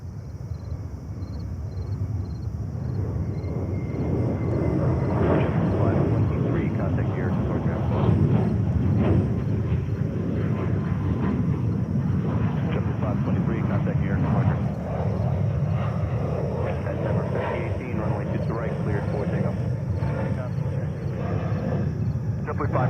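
A JetBlue Airbus A321neo jet airliner passes overhead near JFK airport in New York, a steady broad roar that swells slightly and holds loud throughout, with faint speech mixed underneath.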